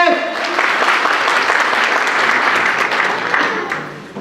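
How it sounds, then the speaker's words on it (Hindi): Audience applause at a speech event, a loud burst of many people clapping that holds steady for a few seconds and then tapers off. "एक बार जोरदार ताली होनी चाहिए"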